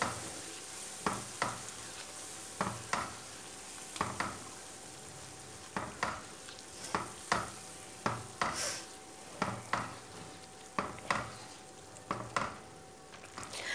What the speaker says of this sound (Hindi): हलवे के अंदर मुसलसल चमचा ना चलाते रहना है